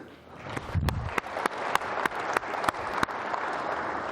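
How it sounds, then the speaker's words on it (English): Audience at a MUFON symposium applauding themselves, a dense steady wash of clapping with a few sharper individual claps standing out, close and sustained throughout. "I'd like you to give a round of applause for yourselves"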